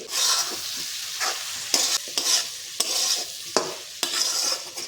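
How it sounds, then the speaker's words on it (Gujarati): Homemade sambar masala is stirred with vegetables in a hot pan, a close, loud sizzle broken by repeated scraping strokes of the spoon at a brisk, irregular rhythm, with no voices. "તો બધા જ મસાલાને આપણે અહીંયા બધું સરસ શાકભાજી સાથે મિક્સ કરી લઈશું"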